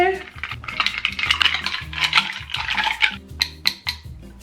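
A little cocktail spoon stirs coffee in a cup, clinking and scraping against the ceramic in quick repeated strokes, close and clear, then a few separate taps at the end.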